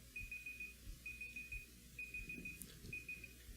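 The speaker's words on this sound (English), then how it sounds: "That's my timer." A timer alarm rings in four steady repeated beeping bursts, fairly faint and alone over a low background hum.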